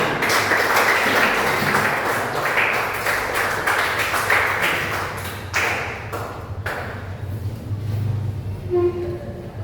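Classroom applause from students at an Islamic junior secondary school (MTs), a dense patter of clapping that runs steadily for several seconds, then thins out and fades.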